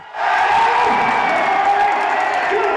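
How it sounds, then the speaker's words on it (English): A loud, packed crowd cheering and shouting at a high school basketball game in Southwest Missouri, a sustained roar of voices close up. "loudest crowd in Southwest Missouri"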